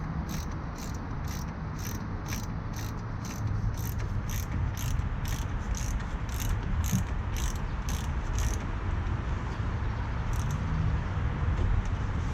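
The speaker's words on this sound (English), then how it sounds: "Tighten back up our caliper bolts." A ratchet tightens the front brake caliper bolts on a Maserati Quattroporte, giving a steady run of quick, evenly spaced clicks that stops near the end, close up over a low, constant background rumble.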